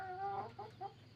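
A Bresse chicken clucks in a short series of three or four throaty calls, close by, with nothing else around it.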